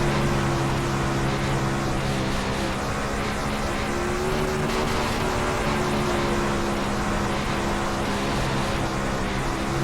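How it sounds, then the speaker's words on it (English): A winged sprint car in the iRacing sim roars continuously at its rev limiter as the tires spin, a loud, dense, unbroken engine drone with no talking. "You can hear we are spinning the tires a little bit when we're hitting the rev limiter"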